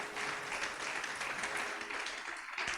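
A church congregation applauds steadily, a dense wash of many hands clapping together at moderate distance that holds for a few seconds without letting up.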